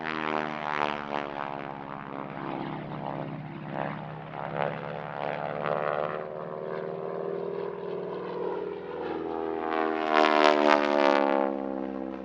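A 1953 Canadian-built North American Harvard T-6 trainer flies past at an airshow, its radial engine and propeller giving a steady, rasping drone with harmonic layers that swells louder toward the end, with no voices.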